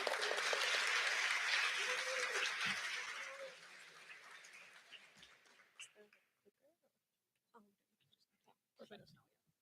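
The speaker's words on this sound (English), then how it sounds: "round of applause" Audience applause at a hackathon opening ceremony, loud and dense at first, then fading over several seconds into scattered claps and a few voices and movements in the room.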